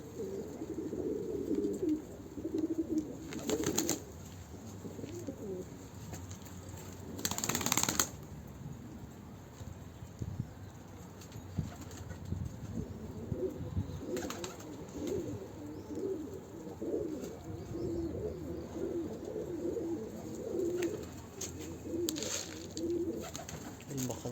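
Pigeons in a loft coo softly and repeatedly at close range, with occasional bursts of rustling and shuffling over a quiet background.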